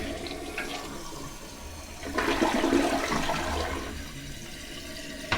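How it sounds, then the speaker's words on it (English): A toilet flushes with a rising, rushing surge of water after its fill and flush valves were replaced, then settles into a steady hiss as the tank refills. "you can see the toilet flushed properly"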